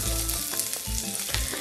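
Onion and capsicum frying hard on high flame for chilli paneer, a loud, constant close sizzle with brief stirring scrapes, no voices.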